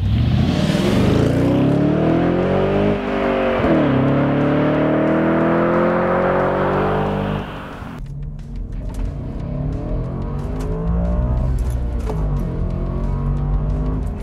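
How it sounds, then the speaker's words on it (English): Audi 4.2 V8 car accelerating hard from first gear on a narrow road, a loud rising engine note climbing steadily for about seven seconds before an upshift drops it to a lower, rougher drone. "I get to accelerate from first gear again"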